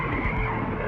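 A NASCAR race car spins after a crash, its tires skidding in a loud, dense roar mixed with engine noise through the whole short moment, with no talk.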